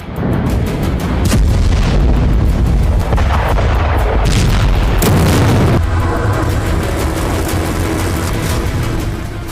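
Hypersonic missile test launch by the US Air Force in Norway, a Bolt 1B: a loud, continuous booming roar with rumbling bursts that sustains throughout, close and powerful.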